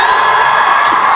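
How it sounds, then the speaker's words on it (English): A home crowd at an indoor aquatic centre cheers and whoops for a synchronised swimming duet at the SEA Games, a loud, steady wall of voices that lasts throughout. "they've been given a warm reception by the home crowd here at the National Aquatic Centre"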